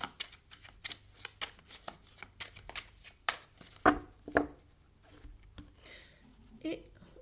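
Morgan Greer tarot cards shuffled by hand, a run of quick papery riffles and soft slaps at close range, followed by a couple of sharper card snaps, with a voice speaking in French over part of it.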